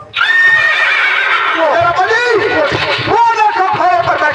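A horse neighs loudly and repeatedly over hoof clatter during a live nautanki folk stage play, with crowd noise faintly beneath, close and continuous.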